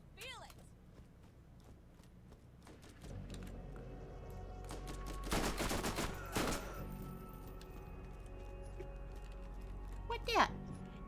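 Gunfire in the shooter game Borderlands, with a burst of several loud shots in the middle and a sharp final shot near the end, alongside scattered game effects.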